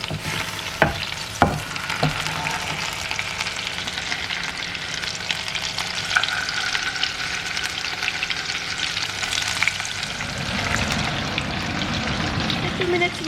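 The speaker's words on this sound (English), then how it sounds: "We're gonna fry the fish 2 minutes from one side, 2 minutes from the other side" Fish fries in butter in a pan with a steady sizzle throughout, a few sharp clicks early on as pieces are set down, and the frying noise shifts and thickens toward the end.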